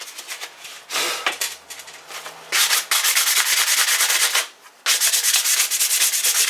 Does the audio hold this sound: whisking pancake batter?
no